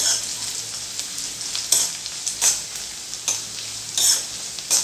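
Sliced garlic cloves stirred and fried in a pan, with a steady close sizzle and repeated scraping strokes of the spoon across the pan bottom, alone without talk.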